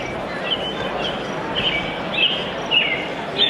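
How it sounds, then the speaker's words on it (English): Recorded birdsong plays from the built-in soother of an Evenflo rotating car seat, with brief high chirps repeating at a steady level over a soft background hiss. "So here's birds, for example."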